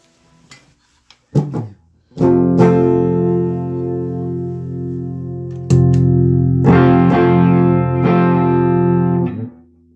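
Electric guitar with a mini humbucker in the bridge position, played through a Fender Full Moon Distortion pedal into a class A solid state power amp: a few plucked notes, then thick sustained distorted chords that ring out and stop.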